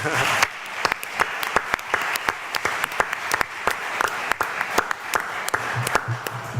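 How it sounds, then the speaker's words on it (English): Applause at an online cyber games draft day event, a sparse group clapping with distinct sharp individual claps rather than a dense roar, steady throughout. "let's give our first round a round of applause."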